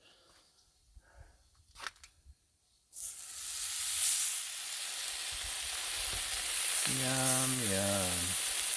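Thick-sliced bacon sizzles on a Blackstone griddle: a quiet, muffled start, then a loud, steady hiss and crackle from about three seconds on, with a brief voice rising over it near the end.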